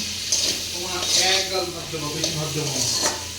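Shrimp fry in a pan with a constant close sizzle and some stirring clinks, while a person talks over the cooking noise.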